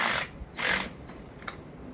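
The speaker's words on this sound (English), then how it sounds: "Use my little electric ratchet and run them all down." A small electric ratchet runs nuts and bolts down on a reassembled engine case in two short bursts of high mechanical whirring, close and fairly loud, followed by a faint click.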